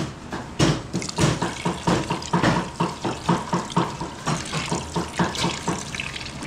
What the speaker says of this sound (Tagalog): So siguro maglagay lang tayo ng tubig, konti lang.